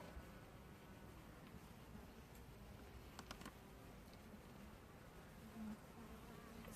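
A steady, dense buzzing of many bees fills the air continuously, with a few faint clicks and taps close by.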